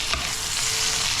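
Sliced Vienna sausage fries in a pan for caldereta, a steady close sizzle with faint stirring scrapes and no talking.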